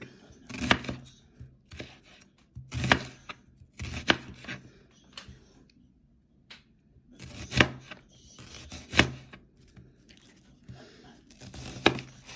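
A knife slices an onion into rings on a cutting board while vegetables are prepared for a Provençal gratin. Crisp, close chops come in uneven clusters with quiet pauses between them, and nobody speaks.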